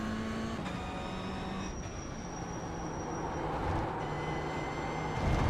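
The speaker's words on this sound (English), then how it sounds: "you can just hear the car understeering here" A steady race car engine drone in the iRacing video game, with a high, sustained tyre squeal from the car understeering on top, continuous and fairly loud throughout.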